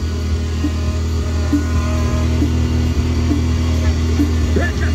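A car engine idles and hums steadily while the car is moved outside a bar, a loud continuous low drone with faint background voices.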